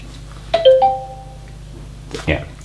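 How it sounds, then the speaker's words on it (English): A phone sounds a short electronic chime of a few bright tones when a Samsung SmartThings door sensor is triggered. A brief voice or rustle follows in a quiet room. "you can hear the phone going off."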